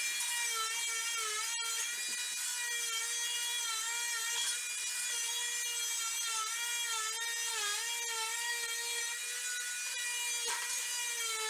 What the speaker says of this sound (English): So that's one is better to use the Dremel.